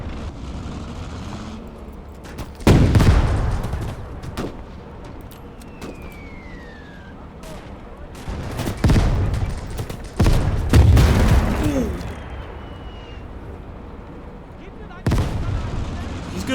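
A bundle grenade blowing up against a tank in Call to Arms: Gates of Hell, a heavy booming blast set among repeated explosions and gunfire on a loud, rumbling battlefield, with a whistling sweep partway through.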